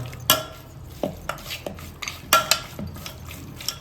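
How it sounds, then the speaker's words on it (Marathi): Mutton being stirred by hand with coriander, salt and turmeric, sharp metallic clinks and scrapes of a utensil against the pot arriving in irregular bursts, close and fairly loud with no talk. "याला चांगल्या प्रकारे तुम्हाला मिक्स करून घ्यायचं आहे सगळं तुमचा धनिया वगैरे मीठ हळद सगळं मिक्स झालं पाहिजे मटनच्या"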